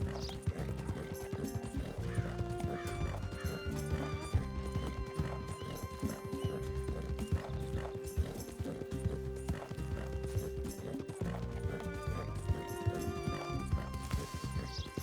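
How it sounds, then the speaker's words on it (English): Horse hooves pound in a fast, steady gallop during a ride in Red Dead Redemption 2, with a neigh or two over a constant bed of game music and ambience. "I'm going to leave all the footage in here of my ride to get to Penelope"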